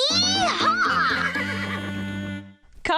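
Horse neighing in a children's cartoon on a farm field, one long loud whinny that fills nearly the whole moment, followed by a brief voice at the end.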